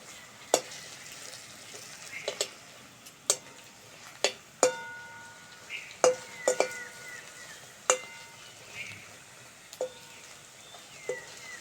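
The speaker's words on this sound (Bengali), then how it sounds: "আলুর বড়াগুলো ভালো করে ভেজে নিয়েছি, তুলে নেব।" Aloo bora, potato fritters, frying in hot oil, with a soft, steady sizzle broken by sharp clinks of a metal spatula or ladle against the pan at irregular intervals.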